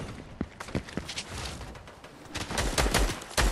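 Shotgun blasts and other gunfire in a Fortnite match, a rapid uneven burst of sharp cracks and booms at close to mid range, some shots loud and near, others more distant.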